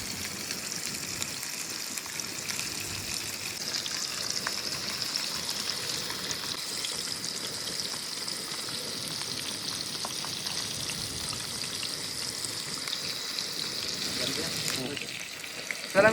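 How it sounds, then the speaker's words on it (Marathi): Fish sizzle and crackle steadily in hot oil on an island cooking spot near Mumbai, a dense continuous frying hiss that stays loud throughout with no talking. "ते आपण फ्राय करू. तेल सुद्धा गरम झालंय"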